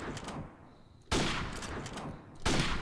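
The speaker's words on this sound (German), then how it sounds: "Ich habe nur auf die Schüsse geachtet." Gunfire in Call of Duty: Modern Warfare Remastered multiplayer, with two loud, sharp bursts of shots, each decaying quickly, separated by a quieter lull.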